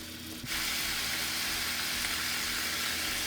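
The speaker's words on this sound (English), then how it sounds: "I'm just gonna let this fry, guys" A turkey neck hits hot oil in a pot, bursting into loud, steady sizzling frying that continues unbroken to the end, with no talking.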